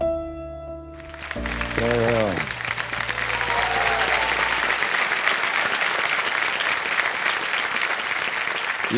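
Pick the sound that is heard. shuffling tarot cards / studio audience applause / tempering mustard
studio audience applause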